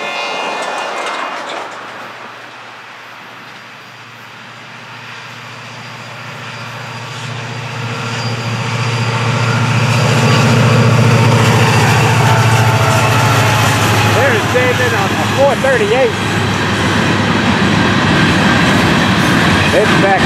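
A Florida East Coast freight train hauling empty hopper cars rolls past toward the Fort Pierce yard, its roar swelling from a quiet start to a loud, sustained rumble with squealing wheels near the end.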